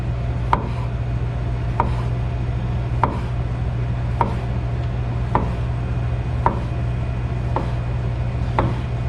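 A knife chopping food on a board, about eight evenly spaced sharp chops at a slow, regular pace, close and distinct over a constant low background hum.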